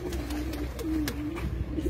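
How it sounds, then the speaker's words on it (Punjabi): Old pigeons on a rooftop coo softly in a low, rolling, repeated call, close by over faint background noise, with a few light chirps mixed in. "ਇਹ ਬਹੁਤ ਪੁਰਾਣੇ ਕਬੂਤਰ ਆ ਜੀ"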